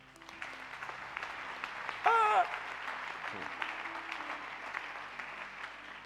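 A church congregation at an Easter seminar applauds for the Lord, a steady wash of clapping that runs throughout, briefly joined by a high voice-like tone and some murmuring.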